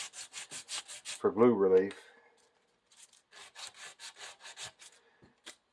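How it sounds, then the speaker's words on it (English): Sanding a slight flat spot on a wooden Windsor chair spindle, heard as a run of rhythmic abrasive strokes, briefly broken by a spoken remark, then more strokes resuming at a quieter level. "I sand a slight flat spot"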